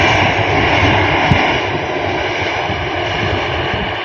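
Military aircraft from Texas arriving at Sri Guru Ram Das Ji International Airport, its engines giving a loud, steady, broadband roar that holds throughout with no talk over it.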